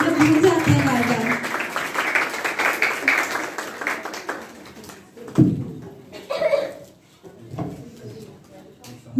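An audience at a celebration for the International Day of Persons with Disabilities breaks into scattered applause that fades out, with people talking over the clapping.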